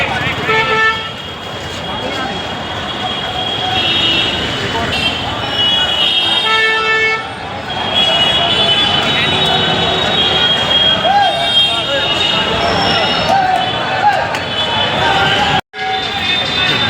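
Busy street beside a Lucknow metro station: a constant roar of traffic with repeated honking horns and passing vehicles, loud and close, while a person talks over the din.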